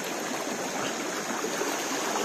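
Cold mountain spring water in a village in Waziristan flows steadily in a dense, even rush of close, bright splashing, continuous and alone without any voices.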